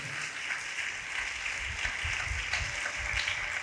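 Congregation clapping together in praise at a church service, a steady dense wash of applause filling the space throughout, with no talk on top.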